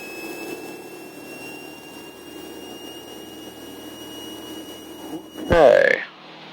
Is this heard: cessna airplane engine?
yes